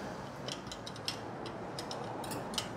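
Tightening the front wheel nut on a budget fixed-gear bicycle: soft, irregular metallic clicks and ratcheting ticks from the tool, fairly faint over a steady background hiss.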